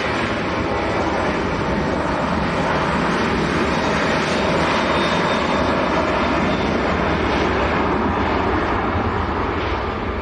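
A Ryanair airliner departs Manchester Airport with a steady, loud roar of jet engines that holds evenly throughout, with no speech.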